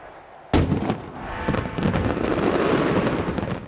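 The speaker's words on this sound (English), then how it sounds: "the spectacular firework display that heralds the new year" Fireworks explode at the Edinburgh Hogmanay New Year display, opening with one sharp, loud bang followed by a dense, continuous crackle of overlapping bursts and pops.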